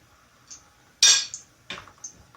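Whole garam masala spices (cinnamon, cloves, black peppercorns, bay leaves) and green chilies are sautéed in a pan for chicken korma, heard as a few sharp metallic clinks and scrapes of a spoon against the pan, close and isolated.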